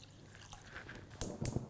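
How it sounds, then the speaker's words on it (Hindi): Water poured into sugar in a pan to make syrup for sweet boondi, a faint liquid trickle with soft drips that swells into two brief, louder splashy bursts near the end. "चाशनी जो है उसके लिए हम लेंगे चीनी और इसमें जाएगा पानी।"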